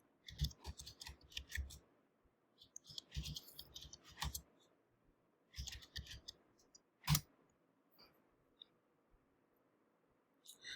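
Keys clatter on a computer keyboard in quick bursts with mouse clicks between, close and fairly quiet, separated by short pauses.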